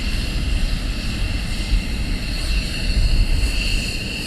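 A military jet taxis at RAF Lakenheath, a steady, loud engine roar and whine holding throughout, close and continuous with no talk.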